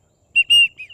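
Widgeon duck whistle call: a close, bright, high whistle in two quick notes, the second longer and stronger, trailing into a softer falling tail, alone in silence.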